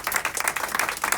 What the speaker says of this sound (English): A big round of applause for Maggie!